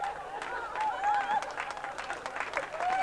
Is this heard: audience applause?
yes